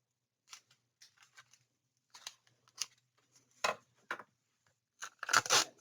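Scissors snip through tape and paper at a craft table for a folio project, a series of short crisp cuts and tearing strokes, sparse at first then denser and louder toward the end, with no voices.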